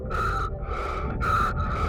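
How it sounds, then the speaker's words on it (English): An astronaut stranded on the Moon breathes heavily, with three loud, rasping gasps spaced about half a second apart over a constant low rumble, close and intense, with no words spoken. "Chen starts to breathe heavily."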